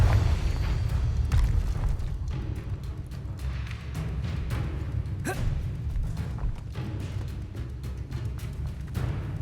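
Confringo fire spell blast in the Hogwarts Legacy wizarding game, a dense rumbling explosion with repeated thudding booms and crackling bursts over about nine seconds, loud and continuous with no talk.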